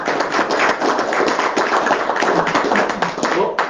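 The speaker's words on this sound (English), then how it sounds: "So let's give her a round of applause." An audience at a school board meeting claps steadily, a dense run of close hand claps that keeps going without a break.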